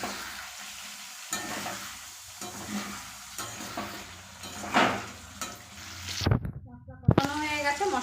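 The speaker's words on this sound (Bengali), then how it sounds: "মশলা কষানো হয়ে গেছে, মশলা থেকে তেলও ছেড়ে দিয়েছে" Spice paste and eggplant being stir-fried in a pan for a pabda and parshe fish dish, with soft sizzling and repeated scraping stir strokes, then louder clatter and a bubbling splash near the end; a voice talks over parts of it.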